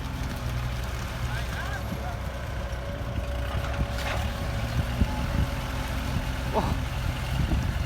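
A bulldozer pushes mud into a pond being widened for a Hitachi EX120 excavator, its diesel engine droning low and steady, with occasional clanks and someone talking over it.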